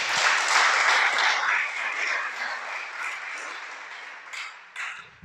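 Applause from a congregation during a Spanish-language sermon, a dense wash of clapping that starts loud and slowly thins out over a few seconds.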